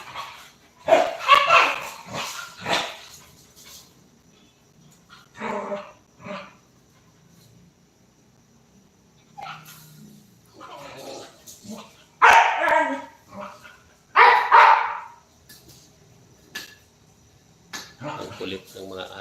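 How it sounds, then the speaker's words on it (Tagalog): Small pet dogs bark and yip in short excited bursts while playing indoors, loud and close, with quieter stretches between outbursts. "Ang kulit ng mga aso ko."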